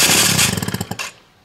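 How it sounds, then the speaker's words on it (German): A 20-year-old Malaguti Yesterday 50 scooter engine catches for about a second on starting fluid, a loud, close, rapid sputtering putter that stumbles through a few uneven pops and then cuts out. "Dann sehen wir, dass er kurz angeht,"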